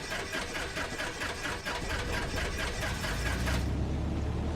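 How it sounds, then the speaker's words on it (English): Piper PA18 Super Cub engine in X-Plane 12, cranking with a steady rhythmic chugging that catches and settles into a low continuous idle rumble near the end, loud and close, no talk. "And we are just going to hit the starter."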